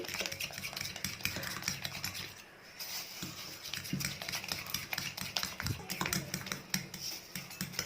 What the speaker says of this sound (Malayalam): കുറേശ്ശെ ചേർത്തിട്ട് ഇതുപോലെ നന്നായിട്ട് ബീറ്റ് ചെയ്ത് ബീറ്റ് ചെയ്ത് എടുക്കുക